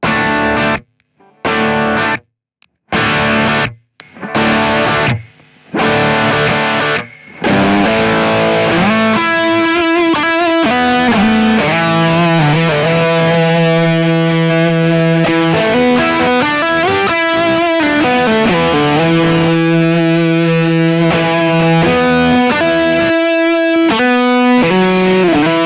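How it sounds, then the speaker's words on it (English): Electric guitar run through a compressor, RC booster, BB preamp and delay, starting with loud staccato chord stabs separated by gaps, then ringing sustained chords and melodic lines with trailing delay repeats, continuous and alone. "add in the compressor again, add in the RC booster, add in the BB preamp, and then add in some delay"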